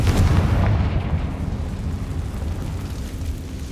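A Confringo fire spell from the video game Hogwarts Legacy goes off with a loud, booming blast that rumbles on as a heavy low roar, fading slightly over a few seconds.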